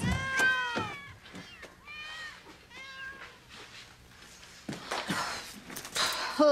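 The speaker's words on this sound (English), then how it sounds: "Get away from me, you damn cats!" Several cats meow in drawn-out, wavering cries one after another, fairly close, followed by shuffling movement and scrapes.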